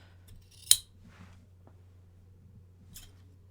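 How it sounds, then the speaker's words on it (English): Sharp fabric scissors snip through fabric, one crisp close cut followed later by a second fainter snip, with near-silence between. "I just have to be very careful with the fabric scissors in particular, because these are very sharp."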